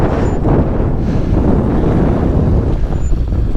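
Strong cold wind at a lakeside overlook in Colorado buffeting the microphone in a loud, constant roar with gusty swells, no voices.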